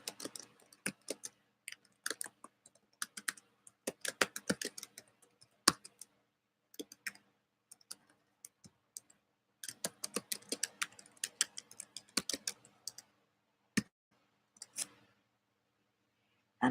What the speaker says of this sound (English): Just going to type that right in here.